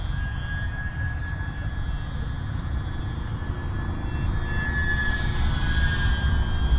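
A small E-flite UMX P-47 BL radio-controlled warbird flies overhead. Its electric motor gives a steady, continuous whining drone with constant strength over a broad background hiss, and nobody speaks.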